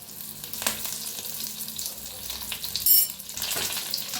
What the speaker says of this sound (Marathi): मस्त असं अंड भाजायला लागलेलं आहे